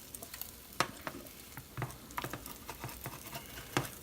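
Omelet eggs frying in a pan, with soft sizzling under scattered sharp scrapes and taps of a spatula as the omelet is flipped, fairly close and moderately quiet.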